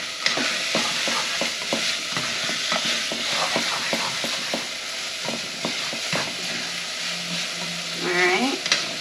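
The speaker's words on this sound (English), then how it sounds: "we're going to season this with some salt and pepper. Give it a little stir." Seasoned baked beans stirred in a pot over a steady sizzle, with a series of quick spoon scrapes and taps close by, then a brief voice near the end.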